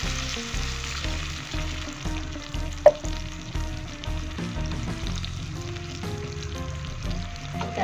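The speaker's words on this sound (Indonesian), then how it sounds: "Kita tambahkan air." Water hits green beans frying in a pan, producing a strong, continuous sizzle with rhythmic stirring scrapes and one sharp clink partway through, close and fairly loud.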